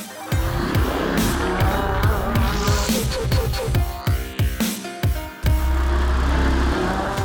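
A Lamborghini Huracan supercar with a 600-horsepower engine drives hard, its loud engine note rising and falling through rapid gear changes and revs, with tire noise and a brief drop before the engine surges back.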